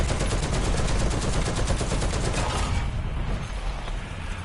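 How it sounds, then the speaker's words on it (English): Rapid bursts of machine-gun fire in a tank combat video game rattle loudly and continuously for several seconds before easing off at the end, with no talking. "Why am I being shot?"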